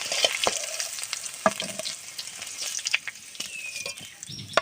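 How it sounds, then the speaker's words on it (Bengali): Fish and potatoes frying in hot oil, a loud, steady crackling sizzle up close with occasional sharper pops and stirring clatters throughout, no voices. "মাছগুলো সুন্দর করে ভেজে নেব আলুগুলো সুন্দর করে ভেজে নেব"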